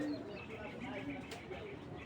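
A racing pigeon coos softly and low in a quiet indoor space, the faint, steady murmur running through the short stretch with muffled background voices.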